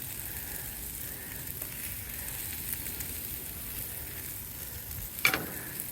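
Sous-vide marinated lamb chops sizzle on a hot grill, a faint steady crackling hiss throughout, with a brief sharp clatter near the end.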